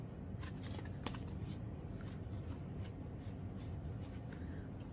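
Tarot cards being shuffled in quick, soft riffling bursts, close and quiet, with a light papery flutter repeating throughout.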